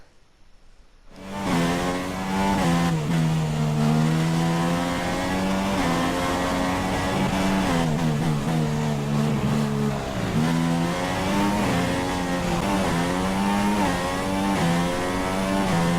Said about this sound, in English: going out on the first qualifying lap, getting the fuel down